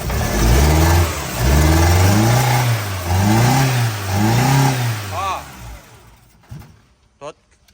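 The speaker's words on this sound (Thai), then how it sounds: "อ่ะมาติดเครื่องดู เครื่องสั่นนะเอาเบิ้ล" A Tata truck with a fault that keeps it from accelerating is started and revved in several rising and falling surges. The engine sits close and loud, then drops away to quiet near the end.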